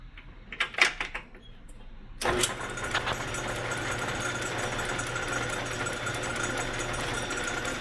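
A lathe spins up while turning a part for a 1977 Suzuki PE250 motorcycle, a few knocks and clicks followed by a sudden start into a steady, loud mechanical whir that holds to the end.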